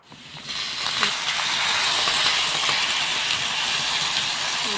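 Broth poured into a pan of frying meat sets off a loud sizzling hiss that swells within the first half second and then holds steady and strong.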